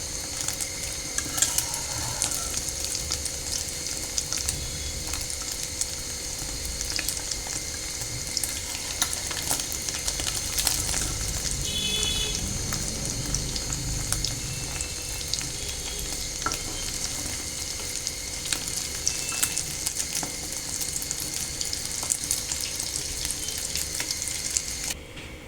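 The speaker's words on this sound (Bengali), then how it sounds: "এই তো আমার ডিম ভাজি হয়ে গেছে।" Eggs fry in a pan for a breakfast of fried eggs and rice, producing a continuous, even crackling sizzle at close range with no talking.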